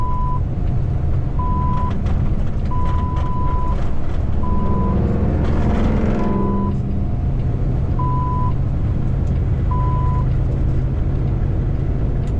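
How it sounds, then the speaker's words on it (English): A truck brakes on the road near Owensboro, Kentucky, with a short hissing swell over a constant loud road and engine drone. Evenly spaced electronic beeps repeat throughout. "truck's hitting the brakes on me"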